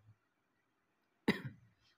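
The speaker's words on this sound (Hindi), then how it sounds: "फिर खांसी आ रही यार" A single sharp cough bursts out after a stretch of near silence, loud and close, with a brief rough tail.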